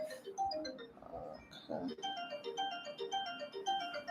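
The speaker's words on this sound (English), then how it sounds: "That is an alarm on my phone." An alarm on a phone chimes a repeating melodic tone pattern, moderately faint, with a brief spoken word over it.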